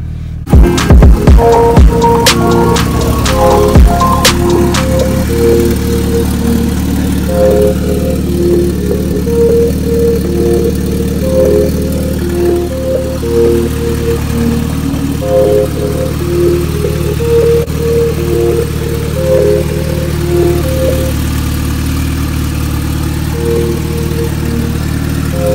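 A car's engine idles on first startup after a new turbo install, running with the muffler removed and an open downpipe. The note is loud and steady with a rough low rumble and burbling pulses, after a brief crank and rev at the start.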